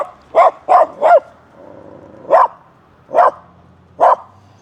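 A dog barks at a house in the gold town of Maldon: three quick, loud barks close together, then three more spaced out with short pauses, nearby and with no talking.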